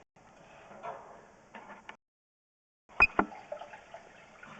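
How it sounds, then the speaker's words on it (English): Water runs through a drain line of the house at 1528 7th Ave in Longview, a soft steady rushing that breaks off into a short silence, then returns with a pair of sharp knocks. "Okay, so we have water running."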